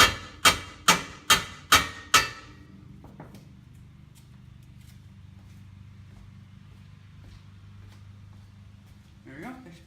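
Six sharp metallic hammer strikes in quick, even succession ring out close by as a bent piece of metal near a transmission oil pan is knocked back into place, followed by a low steady hum.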